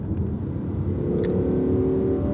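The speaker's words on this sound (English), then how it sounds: "it's a supercar with a V10 engine" An Audi R8 supercar with a V10 engine revs and pulls hard, heard from inside as a loud, steady low rumble with a rising tone and no speech.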